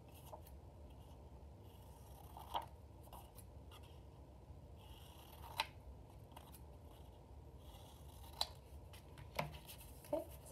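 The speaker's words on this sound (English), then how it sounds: "And then I'm going to cut my square." Scissors snipping through paper to cut out a square, a few separate quiet snips spaced over several seconds against a soft background hiss.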